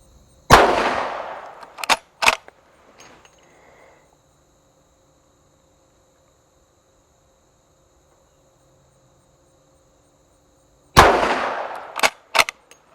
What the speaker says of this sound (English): So let's see how my 357 Magnum hand load does.